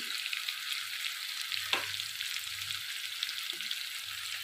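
Chicken fries in oil with spices, sugar and ginger paste, a soft steady sizzle with an occasional spoon knock or scrape, fairly quiet and close, no speech.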